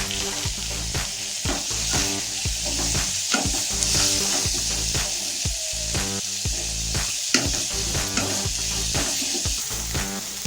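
Curry leaves and onions sizzle loudly in hot oil in a pan for chicken gravy, a dense crackling fry broken by repeated scraping stir strokes throughout.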